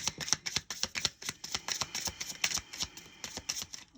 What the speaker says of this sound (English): Let's shuffle the deck and see what pops out.